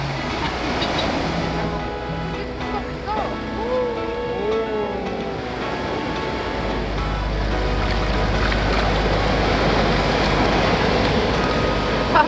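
Ocean waves roll onto a beach on a Gili island off Lombok, a continuous loud surf wash that grows heavier in the second half, with faint voices mixed in early on.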